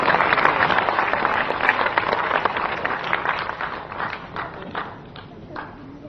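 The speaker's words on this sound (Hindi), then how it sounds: "जोरदार ताली से स्वागत करेंगे" A crowd claps to welcome a secretary at an International Day of Older Persons event: dense, loud applause that gradually thins into scattered claps and fades over several seconds.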